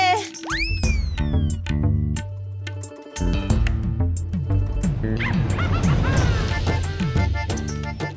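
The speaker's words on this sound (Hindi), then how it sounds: "लेकिन ये कुत्ते की आवाज आ कहाँ से रही है?" A dog barks and yips repeatedly in an indoor comedy scene, loud sharp bursts in quick irregular succession, with some whimpering and cartoonish boing-like effects and music mixed around them.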